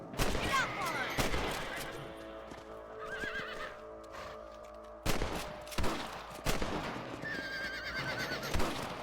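Rifle shots crack out in the Western video game Red Dead Redemption, several sharp reports spaced apart amid horse whinnies, snorts and hoof clops, with game ambience throughout.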